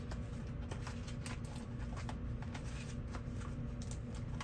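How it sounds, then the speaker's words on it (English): A very large deck of oracle or tarot cards is shuffled quickly by hand, giving a steady, close riffling rustle with soft papery flicks throughout and no talking. "Give it a quick shuffle."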